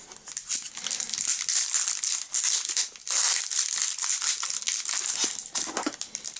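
Plastic packaging bags with barcode labels crinkle and crumple steadily as they are opened and handled up close, loud continuous rustling with brief pauses and no talking.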